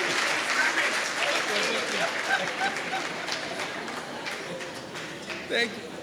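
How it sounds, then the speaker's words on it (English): An audience at a university work readiness workshop stands and applauds as the Minister and the MEC come onstage, a sustained burst of clapping from many hands with voices murmuring underneath. "Let's all stand up and give him a round of applause."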